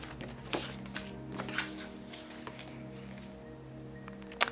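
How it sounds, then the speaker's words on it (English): Oracle cards being shuffled by hand during a pick-a-card reading, a few soft riffling and slapping bursts over a steady low room hum, close and fairly quiet, with a sharper snap near the end. "let's pull some oracle cards"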